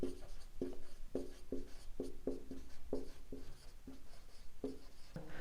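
A pen or chalk writes a math equation on a board in a class 12 derivatives lesson, making steady scratchy strokes with short regular taps, close and clear with no voices.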